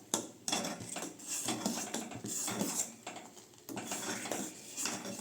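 A spoon stirs powdered nuts into boiling milk in a metal pot, scraping and clinking against the sides in repeated close strokes with short pauses, no voices.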